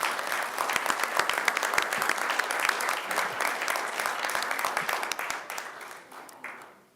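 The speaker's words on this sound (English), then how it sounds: "How about another round of applause for our vocal ensemble?" Audience applause for a fifth grade vocal ensemble at a school board meeting, a dense sustained burst of clapping from a roomful of people that tapers off toward the end.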